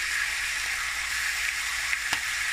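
Pig's feet stew browning in a pan makes a steady, even hiss of frying, close and moderately loud, with a couple of faint taps of a utensil near the end and no speech.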